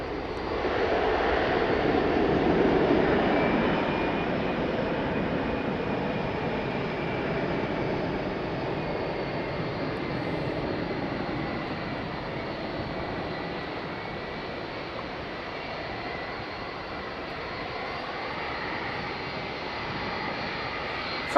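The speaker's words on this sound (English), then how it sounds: "That was one more Ryanair taking off." A Ryanair airliner takes off at Faro Airport, its jet engine roar steady and broad for the whole stretch, loudest early on and slowly easing as it climbs away, with no talk over it.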